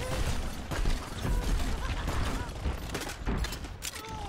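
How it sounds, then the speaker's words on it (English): Rapid gunfire bursts from the video game Overwatch crackle loudly and continuously, with overlapping shots and mechanical clatter throughout. "Gunshots."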